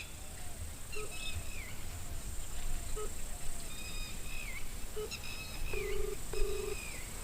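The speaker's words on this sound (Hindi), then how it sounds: "फोन लग भी रहा है" A telephone call is dialed and starts connecting, with a string of short electronic beep tones and brief tonal chirps sounding thin and quiet over a steady background hiss.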